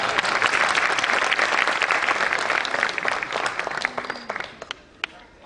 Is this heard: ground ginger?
no